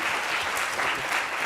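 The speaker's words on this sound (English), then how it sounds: "give a huge round of applause to our expert again" A conference audience gives the speaker a brief burst of steady, dense applause that stays even throughout.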